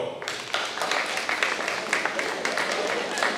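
An audience claps at a high school class of 2023 honors ceremony, a dense, steady patter of many hands that sets in after a brief pause and carries on evenly at moderate loudness.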